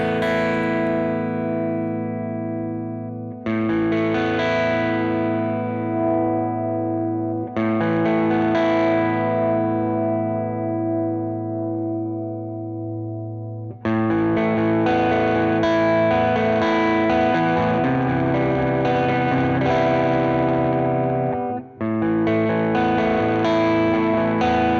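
Electric guitar through a Universal Audio OX amp top box with EQ shaping, played as ringing sustained chords with heavy effects, several strums each left to decay before the next, loud and alone.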